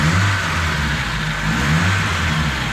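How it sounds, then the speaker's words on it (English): A repaired car engine runs steadily at idle after being restarted, a continuous low rumble with a slight rise in revs partway through, close and loud with no talking. "can now start the car happy and healthy"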